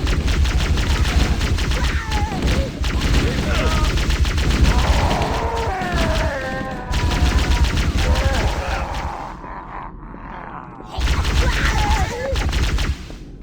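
Rapid bursts of automatic gunfire and fusillades from a Halo: Combat Evolved battle, loud and continuous with brief gaps, mixed with shouted voices of soldiers talking over the shooting.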